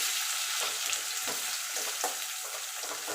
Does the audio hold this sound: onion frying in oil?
yes